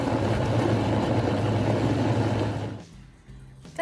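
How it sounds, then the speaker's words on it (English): A blender whirs loudly and steadily while it blends cream cheese, heavy cream and hot black bean chicken taco soup. The motor then cuts off abruptly near the end, leaving quiet. "Then I'll just blend this together until smooth."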